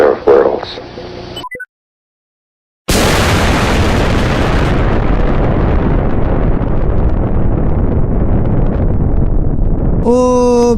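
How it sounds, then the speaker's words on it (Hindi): A nuclear bomb detonates in Minecraft after a brief total silence, erupting into a huge, loud roaring blast that rumbles on for several seconds and slowly thins, with a voice cutting in at the very end. "क्या धमाका हुआ है"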